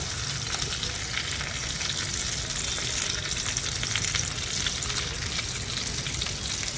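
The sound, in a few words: chicken keema stuffed green chillies frying in a pan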